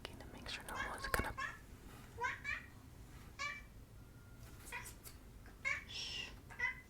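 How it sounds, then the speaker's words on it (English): A house cat makes short, soft meows several times at close range over a quiet background, with some whispering between the calls. "She's the most talkative cat you'll ever meet in your entire life."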